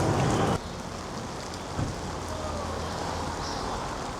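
Steady rain falls during a rainstorm in the New Orleans French Quarter, a dense, even hiss of drops on surfaces, briefly louder at the very start and then continuing at a constant level.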